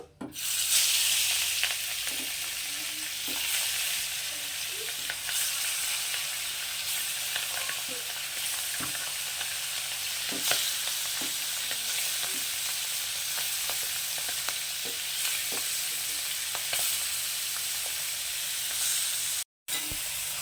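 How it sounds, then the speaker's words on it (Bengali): Small puti fish frying in hot oil in a wok, a steady loud sizzle with crackles and spits running continuously throughout, with stirring sounds and no talk. "এবার মাছগুলোকে আমি ভেজে নেব"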